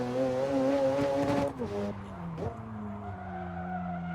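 A race car in Assetto Corsa slides through a corner, its engine droning in steady harmonic tones that dip and rise as the tires skid, loud and close throughout.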